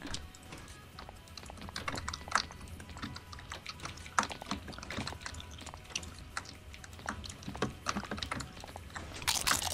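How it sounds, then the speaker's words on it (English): Clicky typing on a computer keyboard during a Minecraft parkour session, a steady run of close, fast keystrokes with scattered louder taps throughout, and no talking over it. "You guys can just hear my beautiful keyboard."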